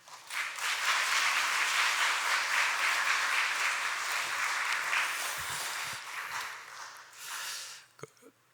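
Church congregation applauding together to welcome the pastor to the front, a dense, steady wash of clapping that holds for several seconds and then tapers off near the end.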